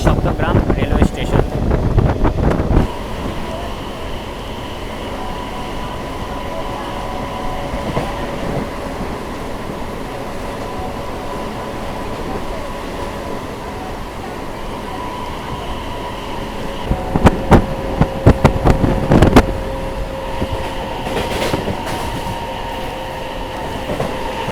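A local train pulls out of Adi Saptagram railway station, giving a steady rolling rumble with wind buffeting the microphone, a long tonal hum, and louder clattering bursts near the start and again toward the end.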